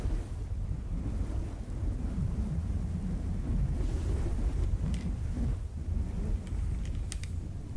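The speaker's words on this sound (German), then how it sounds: "Mann, da pfeift der Wind." Wind in the medieval war game Real Warfare 1242 blows as a steady, rushing gust with a surf-like low roar, constant and fairly loud, with brief faint tones near the end.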